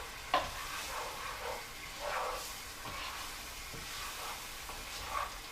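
Vinegar, brown sugar and jerk seasoning sizzling in a hot pan while being stirred, a steady soft hiss with occasional scraping strokes of the spoon, moderately quiet and close.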